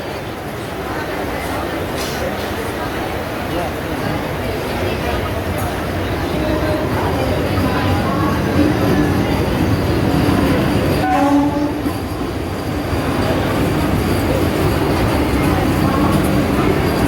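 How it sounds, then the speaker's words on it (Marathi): A Vande Bharat train rushes into a station with a loud, sustained rumble and rattling wheels, and a horn sounds briefly near the middle. People talk faintly underneath. "वंदे भारत ट्रेन येणार आहे"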